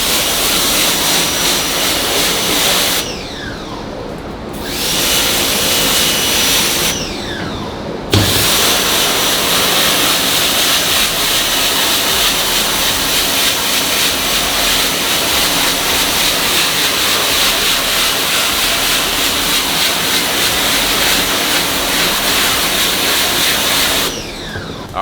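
A water spray nozzle held too close to a screen-printing screen during reclaiming gives a loud, steady, harsh hiss. It drops out briefly twice early on, then runs unbroken almost to the end.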